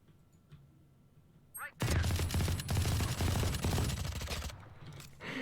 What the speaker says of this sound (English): I'll try a machine gun